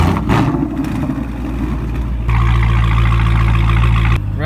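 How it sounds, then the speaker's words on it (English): A Mustang and a Hellcat drift in a backyard, engines roaring loud and close with a sustained throaty drone that shifts pitch midway as the revs rise, then drops suddenly near the end. "Just a little drifting."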